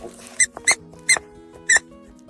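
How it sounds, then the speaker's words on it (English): A tiny Chihuahua chomps a squeaky toy, giving four sharp, high squeaks in an uneven rhythm, close and loud over a quiet background. "Squeak it like a maniac."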